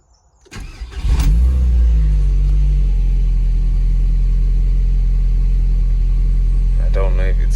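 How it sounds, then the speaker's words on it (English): A VW Golf Mk4 GTI engine cranks and catches, then settles into a steady, loud, low idle rumble close by, with a brief voice near the end. "we're gonna start the car up now and test it"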